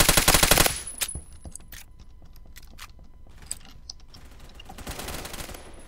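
First-person shooter gunfire, a sharp loud automatic burst at the start, then scattered fainter shots and clicks, with another rattling burst near the end.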